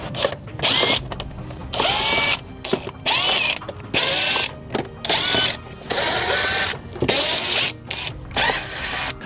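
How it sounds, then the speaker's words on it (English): A ratchet driver with an 8mm socket undoes the wheel arch liner bolts on a flood-damaged car, heard as repeated bursts of fast, loud ratcheting clicks separated by short pauses, up close with no talk. "You'll need an 8mm driver of some kind for it."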